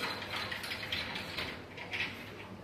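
Screws being tightened while assembling storage racks, a steady ratcheting, grinding mechanical whir with rhythmic clicks, close and continuous with no talking.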